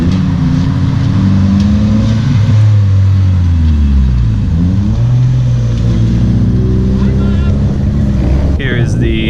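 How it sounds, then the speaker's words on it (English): A Toyota Supra rolls in during a poker run in Okinawa, its engine a loud, steady drone with shifting pitch as it nears, with people talking over it. "Supra's rolling in."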